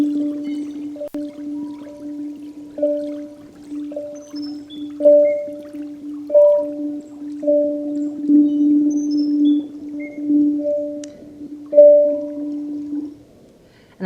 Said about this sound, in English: I hear the birds singing at the same time as the tablas